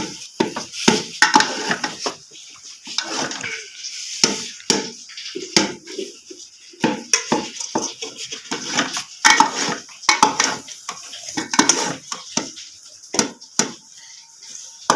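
Carrots are stirred and fried in a pan, with a metal spoon repeatedly scraping and clinking against the cookware in an irregular, lively rhythm. The sound is close and fairly loud, with no talking.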